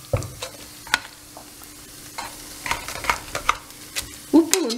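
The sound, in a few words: mashing cooked amaranth greens with a potato masher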